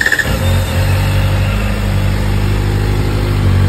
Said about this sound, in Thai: เสียงหวานเจี๊ยบสไตล์สี่สูบนะ เดิมนุ่มๆเลยนะครับ